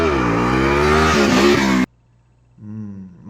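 A motorcycle engine revs loudly and steadily while being ridden, cutting off abruptly, then a fainter engine drone returns after a short silence.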